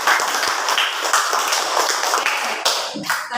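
A school class applauding, a brisk, dense patter of many hands clapping together close by, lasting a few seconds before tapering off.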